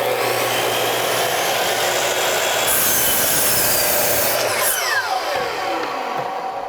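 A sharpened oscillating multi-tool blade cuts through knotty wood with a steady, loud, rasping buzz that runs continuously without pause.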